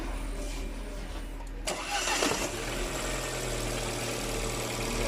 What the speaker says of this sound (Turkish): Evet arabamız çalışıyor.